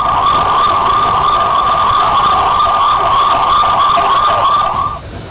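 A loud, steady wailing ambulance siren, parked below as injured people are loaded to be taken to a nearby hospital, sounds continuously with no talk, then cuts off near the end.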